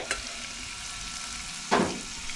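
A spiced mixture frying in hot oil in a pan, a steady close sizzle with two brief bursts of stirring, one light and one stronger near the end, without any talk.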